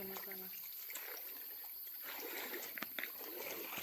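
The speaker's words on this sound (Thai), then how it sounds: "จะล้างมือก่อน" Tap water runs steadily as hands are washed after rod fishing beside rice-paddy ponds, a soft continuous trickle and splash with a few brief louder drips near the end; no one talks.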